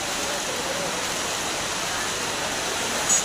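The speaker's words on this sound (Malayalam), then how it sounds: "അമ്പലത്തില് വെള്ളം കയറി തുടങ്ങി" Floodwater pours into the Guruvayur temple with a steady, dense rushing hiss like a waterfall, constant and fairly loud from start to finish.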